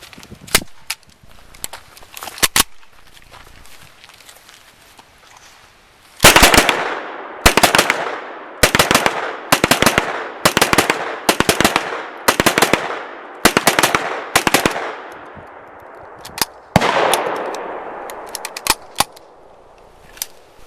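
An IMI Uzi SBR fires a series of short, sharp bursts outdoors, roughly a dozen evenly spaced volleys after a few single cracks, each burst loud and clipped with a brief ringing tail.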